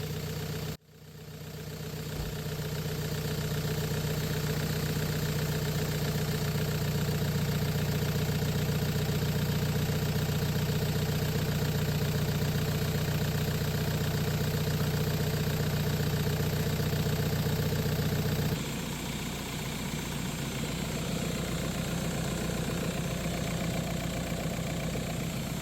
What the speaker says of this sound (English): I'm going to start the engine and crank the heaters, let the coolant run through all the hoses